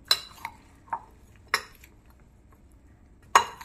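A spoon stirs spices into a mustard-spiced cucumber pickle in a bowl. About five sparse, clear metallic clinks sound close by, with quiet gaps between them.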